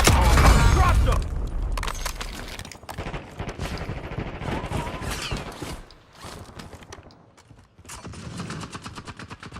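Rapid automatic gunfire and sharp shots in a Call of Duty Warzone match, loud and dense at the start, then scattered bursts continuing under game audio.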